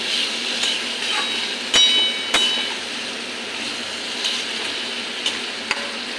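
Tomato, green chillies and ridge gourd sizzle steadily in a hot pan in a home kitchen, with a few sharp clacks of a spatula or ladle striking the pan as the vegetables are stirred.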